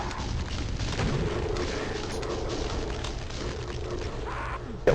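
Rocket launcher fire and blasts in Doom 2, a dense, continuous roar of booming explosions with sharp pops near the end, loud and close with no talking.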